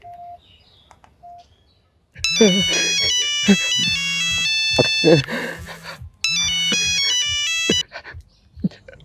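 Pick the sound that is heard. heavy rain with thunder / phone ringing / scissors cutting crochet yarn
phone ringing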